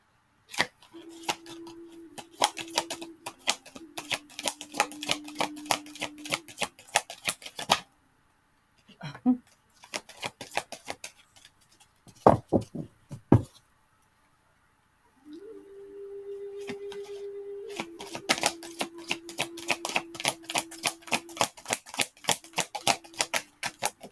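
A deck of oracle cards is shuffled by hand in rapid bursts of crisp riffling clicks, with two longer runs separated by a quieter pause holding a few scattered taps, close and fairly soft, over a faint steady hum.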